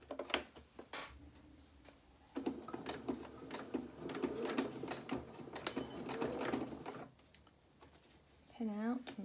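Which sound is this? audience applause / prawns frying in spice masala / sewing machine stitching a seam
sewing machine stitching a seam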